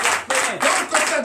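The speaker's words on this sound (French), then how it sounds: "je vous demande d'applaudir très fort" Brief rhythmic clapping fills a Sunday church service in Comè, Benin, with loud bursts of hands beating in a regular pulse while a voice speaks over it.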